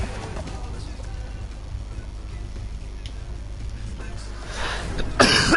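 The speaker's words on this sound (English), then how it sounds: "Shitty coughs." A person gives a single close cough near the end, over a steady low rumble of racing video game audio.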